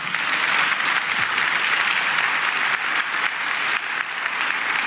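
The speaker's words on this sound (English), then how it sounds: "Give them a round of applause." An audience at a county State of the County address breaks into sustained applause, a loud, dense clatter of many hands clapping steadily throughout without any speech over it.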